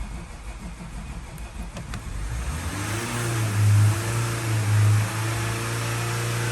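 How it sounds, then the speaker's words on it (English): A Range Rover Vogue with a knocking engine cranks over, its starter grinding faintly at first before a louder, steady low engine drone takes over and swells twice, close by with no talk. "Now we just gotta start the car."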